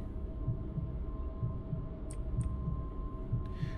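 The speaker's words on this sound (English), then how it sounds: "Why is my heartbeat just..." A slow, steady heartbeat thumps low and muffled under a constant hum in a zombie video game, with faint clicks near the middle and end and no talking.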